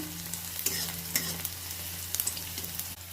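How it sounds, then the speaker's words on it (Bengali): Chopped onion stirred while frying in a pan with chilies: a steady, close sizzle of hot oil with scattered scraping taps from the spatula, and no talking. "পেঁয়াজটাকে আমি এক মিনিট ধরে নাড়িয়ে নেবো একটু"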